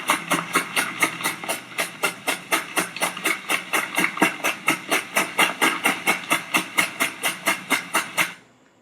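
CO2 vapor hissing during an extraction of olive leaves, a loud rapid pulsing hiss of about three bursts per second, steady and near, cutting off abruptly at the end.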